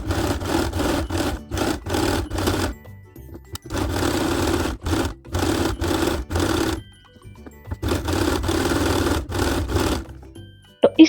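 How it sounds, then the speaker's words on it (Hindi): Sewing machine stitching folded pieces of orange fabric for DIY hair accessories, in loud whirring bursts of a few seconds separated by short pauses. "इसी तरह से हम तीनों पार्ट को सिल लेंगे।"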